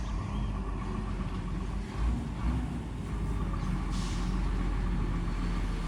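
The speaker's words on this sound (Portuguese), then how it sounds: "Os caminhões saindo da fazenda" Heavy trucks pulling away from a cattle farm, a steady low diesel rumble that holds close and loud throughout, with a brief hiss like an air brake partway through.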